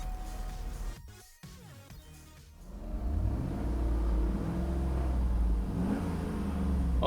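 A 2011 Cadillac Escalade's 6.2 liter V8 idles, then rumbles and revs up into a steady, moderately loud engine drone, heard alone without talk.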